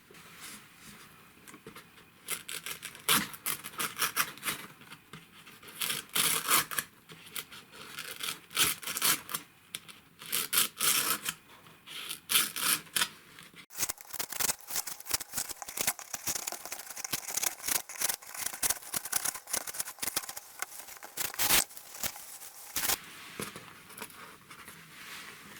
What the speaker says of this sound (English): I'm going to try and peel off one of the outside papers